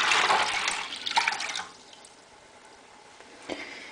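Water gushes into a container being readied for cleaning monarch butterfly cages, a loud, close pour that stops after about a second and a half, followed by quiet and a single short splash.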